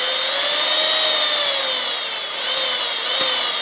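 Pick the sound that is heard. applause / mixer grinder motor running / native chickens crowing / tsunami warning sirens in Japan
mixer grinder motor running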